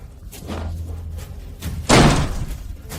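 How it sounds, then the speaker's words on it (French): A locked door is forced in with heavy shoulder blows: a couple of dull thumps build to one loud, sharp slam midway, with a low rumble beneath and no talking. "Défoncez la porte."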